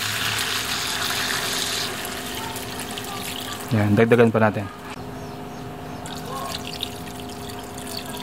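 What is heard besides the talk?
water being poured into a pot of sinigang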